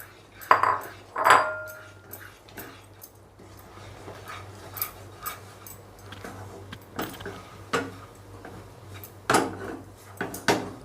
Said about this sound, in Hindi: धीरे धीरे करके आटे को इसमें डाल देना है और मिला लेना है।